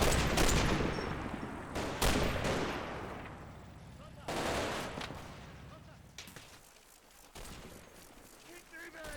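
Gunfire from attacking Panzer Grenadiers in a Combat Mission battle in Normandy during Operation Epsom at night, heavy bursts of rifle and machine-gun fire with booming impacts, dense and loud, tapering into scattered shots toward the end.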